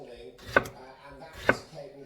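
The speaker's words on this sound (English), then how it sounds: "taking my tomato, cut it in slices" Knife cutting through a tomato into slices on a board, two distinct chops about a second apart over a faint background of a television news broadcast.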